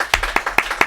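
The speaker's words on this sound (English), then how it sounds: "Please, an applause for both professionals that are here with us." A few people at a live VFX webinar clap in sparse, evenly spaced claps, about five sharp distinct slaps in under a second, close and fairly loud.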